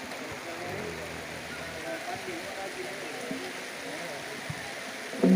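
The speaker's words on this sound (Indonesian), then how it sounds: "Kembali nampaknya lapangan berguyur hujan." Heavy rain pours steadily onto a football pitch during a match, a dense, even hiss that runs the whole time with faint voices beneath it and a brief louder burst at the very end.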